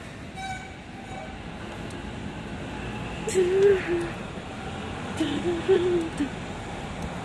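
An MRT train at Daho Station heard at night from a busy street with buses nearby, a steady rumble of rail traffic under city noise, with two brief tonal swells like horn or brake squeals around the middle and end.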